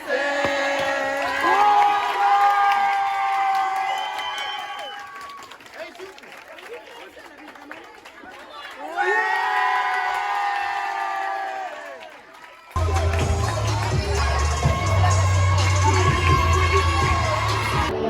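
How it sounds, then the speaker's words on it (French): A lively crowd at a French high school basketball event cheers, shouts and claps loudly, with voices rising and falling in waves before a burst of music cuts in near the end. "Sous vos applaudissements, et je veux du bruit pour ce lycée."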